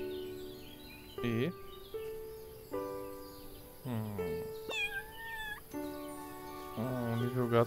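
A cat in the farming game Everdream Valley meows several times in clear, separate calls with gaps between, while a soft game tone holds in the background.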